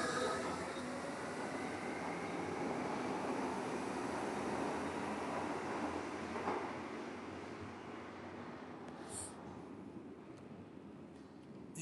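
A passenger train pulls into a station platform, its rolling rumble and wheel noise loud and steady at first, then easing as it slows, with a brief high squeal near the end.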